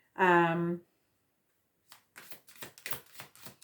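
A deck of cards is shuffled close by in a series of crisp, papery riffling bursts that follow a short spoken phrase and a pause.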